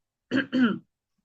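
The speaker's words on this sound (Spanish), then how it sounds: "yo les había dicho antes que tengo mucha tos, entonces les ofrezco disculpas" A person with a bad cough clears their throat twice in quick succession, close and loud, with no talk around it.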